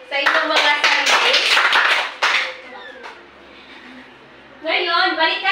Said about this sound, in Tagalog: pagbigay ng 3 palakpak sa inyong mga sarili